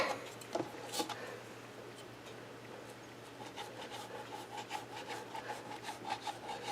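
A dull knife saws back and forth through a toasted waffle, a soft rasping scrape that is faint and close, with a louder crunch near the start and quicker strokes toward the end.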